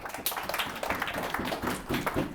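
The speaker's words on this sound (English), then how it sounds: "So give yourselves a round of applause." An audience applauding at a talk on generational wealth: dense, steady clapping from a crowd that continues throughout.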